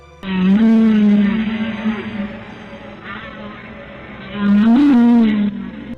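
Deep, drawn-out whale calls moan and rise in pitch in two long swells, loud and resonant, with no talking.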